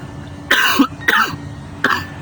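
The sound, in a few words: cough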